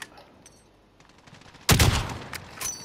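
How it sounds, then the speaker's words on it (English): Gunfire in Call of Duty: Modern Warfare, a few faint distant shots followed by a sudden loud close burst of rapid fire with trailing echoes, no talk. "I'm shooting right at this claymore."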